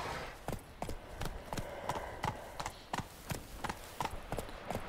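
A horse trots while being ridden in The Witcher 3. Its hooves clip-clop in a steady, even rhythm, close and clear over a soft outdoor background.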